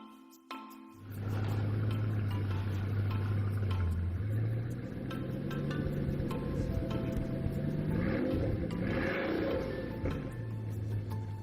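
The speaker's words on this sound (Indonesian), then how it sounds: "Bugatti W16 adalah mesin produksi yang paling kuat dan kompleks yang pernah dibuat" A Bugatti W16 quad-turbocharged engine runs with a steady low drone that rises and falls in pitch as it revs, heard fairly close and continuous after a brief quiet start.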